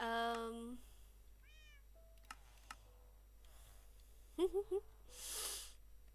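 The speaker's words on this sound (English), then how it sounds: "that's why we keep a cat in here" A cat kept in a workshop meows clearly several times, short rising cries close to the microphone, between quiet ticks and clicks in an otherwise still room, with a person speaking briefly.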